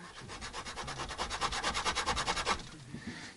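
Rhythmic back-and-forth sanding strokes on a headless bass guitar, flattening a high spot, a steady series of close rasping rubs that stop abruptly near the end.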